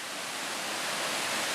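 The Traunfall waterfall in the morning gives a dense, continuous roar of falling water, loud and unbroken, with no voices.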